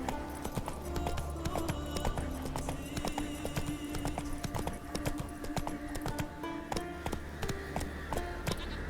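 Horse hooves trot at a steady clip-clop rhythm across The Witcher 3 video game world, close and continuous, with a brief whinny over ambient game sounds.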